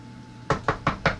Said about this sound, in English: Oh, somebody's at the door.